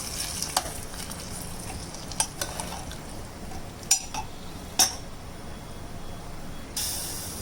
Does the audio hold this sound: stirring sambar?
yes